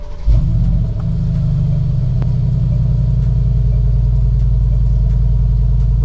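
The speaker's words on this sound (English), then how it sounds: "cold start, here we go" A Mercedes-Benz G63 AMG V8 cold-starts with a sharp crank and burst, then settles into a deep, loud, steady rumbling idle close to the microphone.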